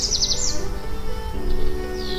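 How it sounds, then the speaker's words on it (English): Birds singing outdoors, a few quick high chirps and a trill near the start and a thin whistle at the end, fairly faint over a steady ambient hum with no voices. "Even the birds can feel it. Listen to them sing."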